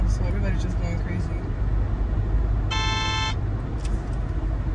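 A car horn gives one sharp honk of about half a second in busy traffic near construction, over a constant engine and road rumble, with people talking around it.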